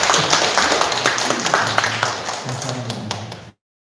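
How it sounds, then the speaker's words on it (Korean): Church congregation clapping during a Korean Wednesday worship service, a dense, lively burst of many hands with some louder individual claps and a low murmur beneath, stopping abruptly after a few seconds. "네, 경례 박수를 하겠습니다."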